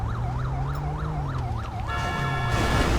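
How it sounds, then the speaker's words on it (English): Police car siren in the GTA 5 video game, a loud wailing tone rising and falling steadily and repeatedly, switching near the end to a faster, harsher electronic yelp over a low engine rumble. "We'll go turn our siren off."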